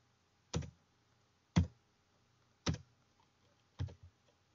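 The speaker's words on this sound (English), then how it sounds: "When I start typing in the T for the test" Four separate, crisp key taps on a computer keyboard, spaced roughly a second apart in a quiet room.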